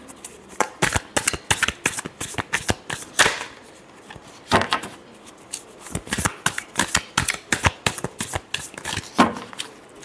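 Tarot cards being shuffled by hand in a series of quick riffling, flicking bursts with short pauses between, close and fairly loud, with no talking.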